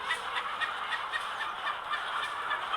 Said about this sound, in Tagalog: Ana guys, magpakaon sa chicken.